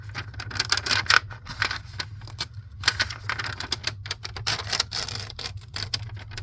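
Paper being torn along a ruler to make a journal pocket, a stuttering run of crisp ripping and crackling bursts close to the mic over a low steady hum.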